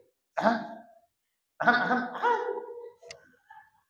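Someone clears their throat nearby in two rough bursts, followed by a softer short vocal sound and silence.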